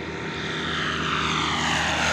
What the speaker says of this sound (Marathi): म्हणजे आता हे चौथं विमान आहे.